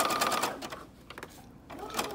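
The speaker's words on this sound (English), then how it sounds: "I'm not stretching the fabric, I'm just letting the sewing machine take it" A sewing machine zigzag-stitches hem tape onto a uniform skirt hem, a close, steady whirring burst that pauses briefly and then starts again, with speech faintly underneath.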